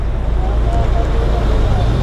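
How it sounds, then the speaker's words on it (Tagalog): Steady roadway traffic rumble with heavy trucks and vehicles passing on a busy road, a dense continuous low drone with faint background voices. "Traffic."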